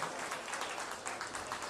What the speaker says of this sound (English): Let's go ahead and give this young man a round of applause.